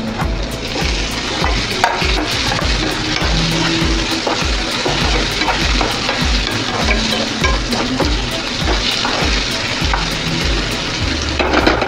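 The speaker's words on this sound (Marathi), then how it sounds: "आता हा मी बारीक चिरलेला टोमॅटो टाकून घेते ह्याच्यात" Chopped tomato dropped into onions frying in a pan for sukka shevga, a loud steady sizzle with stirring scrapes running throughout, no talking.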